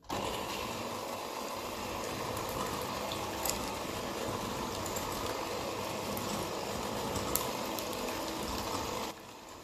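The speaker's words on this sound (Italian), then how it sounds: "con il frullatore vado a montare per 6-7 minuti." A steady electric mixer whirs continuously, whipping eggs and sugar, a dense even buzz with a few faint clicks, ending abruptly near the end; no voices.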